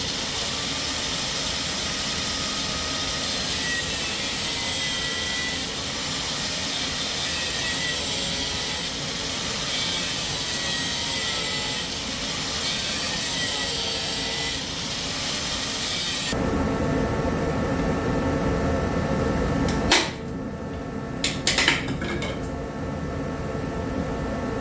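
A power steering pump pulley from a C5 Corvette LS6 being cut into chunks, giving a long, steady, hissing grind that shifts in tone near the end and ends with a few short knocks.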